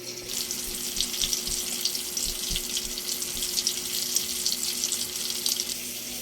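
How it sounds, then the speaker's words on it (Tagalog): An eggplant omelette of egg and eggplant frying in a pan: a steady, close, hissing sizzle that holds at an even level throughout, with light crackles scattered over it and no talking. "Tortang talong. Ayan. Nakita nyo po ba yan? Ayan. Yan yung itlog oh. Hmm. Tapos, andito na siya sa kawali."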